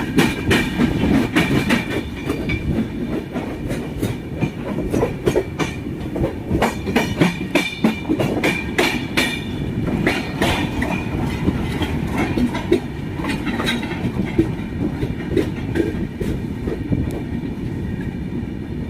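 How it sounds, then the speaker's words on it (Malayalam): The Mumbai to Mangalore Express runs through heavy rain, its loud, close rumble carrying a steady clickety-clack of wheels over rail joints for the whole stretch, with no talking. "ഇത് Mangalapuram express, Mumbai to Mangalapuram express ആണ്."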